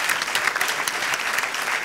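Steady, dense applause from a studio audience at a sports talk show, continuous and fairly loud with no voices over it.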